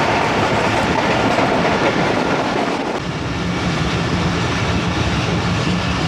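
The Allama Iqbal Express passenger train rolls along in Pakistan, heard from inside the carriage as a constant loud rumble with rhythmic wheel clatter, continuing steadily throughout.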